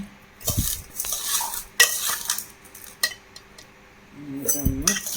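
Salted mango pieces for a Kerala-style mango pickle spooned into a jar: close scraping and clinking of a spoon against the vessel in irregular bursts, moderately loud, with no talking.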